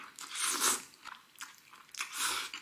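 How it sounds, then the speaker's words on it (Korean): Someone eats seafood tray jjajangmyeon noodles with dongpo pork and drinks at a Chinese takeout meal, making close, crisp bites and wet chewing in a few bursts with no talking. "해물 쟁반 짜장부터 먼저 먹어"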